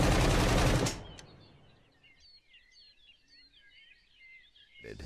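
Gunfire from a held, scoped weapon in the open-world survival prison game SCUM: a loud, dense burst of automatic fire for about a second with a single sharp shot after, then quiet birdsong chirping in the background and a brief final blast.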